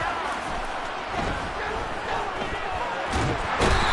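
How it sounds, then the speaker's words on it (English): A football stadium crowd before a big third down, a loud, continuous roar that swells near the end, with a commentator talking over it. "the crowd getting into it as we come up on a big third down"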